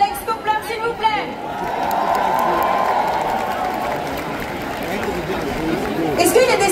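A live concert audience in New York City applauds a musician, a broad wash of clapping that swells and holds steady, with scattered crowd chatter and a voice over the top near the end.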